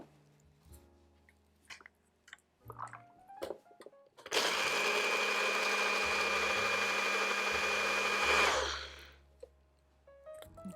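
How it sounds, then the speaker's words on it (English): A blender whirs steadily for about four seconds, pulverizing cashews into a vegan hollandaise sauce, loud and close, starting and stopping abruptly amid quieter kitchen clatter. "now we're just gonna blend this until the cashews are completely pulverized"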